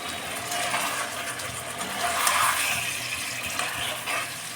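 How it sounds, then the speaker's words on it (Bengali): Bowl-rinsing water from a bowl that held marinated meat pours into a cooking pot, a steady close splashing gush lasting a few seconds with no one talking. "এবার এর মধ্যে বাটি ধোয়া এই জলটাকে দিয়ে দিব।"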